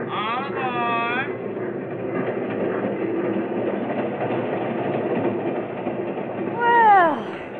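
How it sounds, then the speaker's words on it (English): Steady rumbling train effect for a 1949 radio comedy, a train departing for Lake Placid, running continuously under voices with a louder swell near the end. "All aboard, train leaving for Lake Placid."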